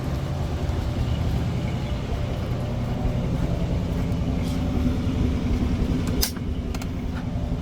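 Low steady engine drone and road rumble from a 1955 Chevrolet Bel Air wagon driving, heard from inside, with a couple of faint clicks near the end.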